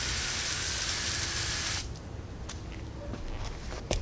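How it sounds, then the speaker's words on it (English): A water hose spraying onto an IP-rated light fixture, a loud steady hiss of water that cuts off partway, leaving faint drips and small splashes. "Or you can spray with a water hose if you want to."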